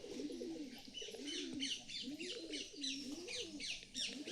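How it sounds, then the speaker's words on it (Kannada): Parrots perched up high call with repeated sharp chirps over a steady low cooing, all close and continuous with no talking. "ಅದಕ್ಕೆ ಈ ಗಿಳಿ ಮಾತ್ರ ಶಬ್ದ ಮಾಡಕ್ಕೆ ಕುಂತು ಬಿಟ್ಟಿದ್ದಾವೆ ನೋಡ್ರಿ"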